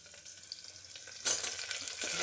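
Baby potatoes go into a frying pan for an aloo-peas curry. A soft, quiet sizzle jumps to a louder crackling hiss as they land and keeps going to the end.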